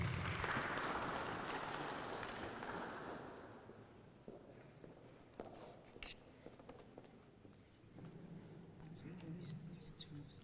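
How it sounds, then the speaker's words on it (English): An audience at an academic presentation applauds a presenter with soft, fairly distant clapping that fades over a few seconds into quiet room shuffling and footsteps. "Let's give a round of applause for Megdes."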